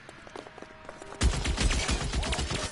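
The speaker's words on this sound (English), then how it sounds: "Is that a Thompson they're using?" Rapid video game Thompson submachine gun fire breaks in suddenly after a quiet stretch, a loud, fast rattling burst that continues to the end.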